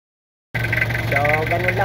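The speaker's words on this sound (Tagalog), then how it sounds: "Pagka yan ibinubuksan, namamalya talaga ang makina." A Toyota 2L diesel engine idles roughly as an injector nozzle is bled, a steady uneven throb that starts abruptly after silence, with a voice speaking over it.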